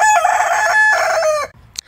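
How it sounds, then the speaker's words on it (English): A rooster among chickens roosting in a tree crows loudly and close, one long drawn-out cock-a-doodle-doo that breaks off, followed by a brief cluck. "There is chickens in the tree, y'all."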